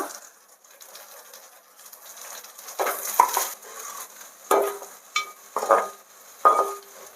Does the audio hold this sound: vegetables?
yes